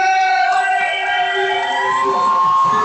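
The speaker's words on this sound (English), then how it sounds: "And you hear that crowd here" Loud crowd noise at a mixed martial arts event in Bridgeport, with a sustained roar carrying strong wavering tones like shouting or whistling above a dense murmur, continuous throughout.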